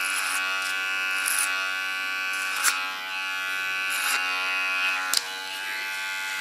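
An electric hair clipper buzzes steadily and close while trimming hair, a constant bright motor drone with brief louder ticks as it meets the hair, no voices over it.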